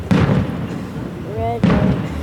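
Fireworks burst over South Haven, Michigan on July 4th, 2014: two loud booming explosions about a second and a half apart, with a whistling crackle rising between them and crowd noise underneath.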